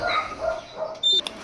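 Golden retrievers and other dogs at home give a few short, moderately close barks and yips, spaced irregularly across the moment with no talking.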